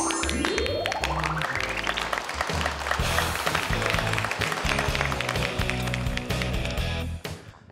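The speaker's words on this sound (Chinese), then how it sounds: "我们掌声有请杜瑶老师。" On a televised Tianjin comedy crosstalk stage show, a studio audience claps to welcome the next performer, with dense sustained applause under loud stage music and a rising musical flourish, cutting off at the very end.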